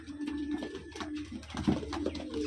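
Close by, a pigeon of the Andhra breed gives soft, throaty repeated coos over faint background noise, with no one talking.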